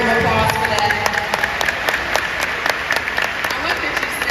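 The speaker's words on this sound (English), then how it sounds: "Can we get a round of applause for that?" Audience at a women-in-business panel breaking into a round of applause, loud and close, with distinct individual claps standing out from the crowd and a voice briefly heard underneath.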